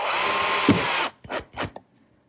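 A power drill drives screws into plywood clamping blocks, a steady close whir for about a second followed by a few short bursts of driving.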